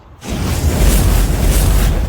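Roaring cinematic fireball from a firebending effects edit bursts in almost immediately and sustains as a dense, loud, rumbling whoosh with crackling texture, holding full strength throughout without any voices.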